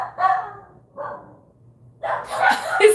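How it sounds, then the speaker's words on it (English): Pet dogs bark indoors in short separate yaps, two single barks followed by a busier cluster of barking, close and fairly loud, with no talking. "I'm sorry about my dogs"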